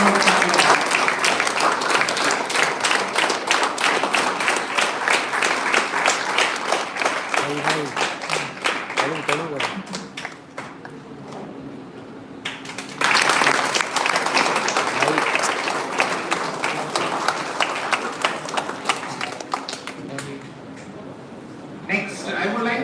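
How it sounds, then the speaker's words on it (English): An audience applauds at the valedictory session of a Berhampur University conference. Dense, sustained clapping fills the room, eases briefly midway, then swells back just as strongly. "With these round of applause."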